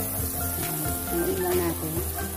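Garlic sautéing in a pan for carbonara: a steady low sizzle that runs the whole time, partly under a voice and a tonal hum.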